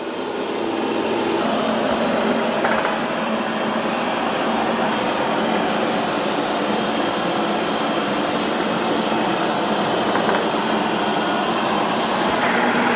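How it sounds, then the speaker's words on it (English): Roborock S8 MaxV Ultra robot vacuum on carpet with boosted suction: a loud, steady whooshing roar close by that holds constant for the whole stretch and has no speech. "it increases the suction power when it's on carpet"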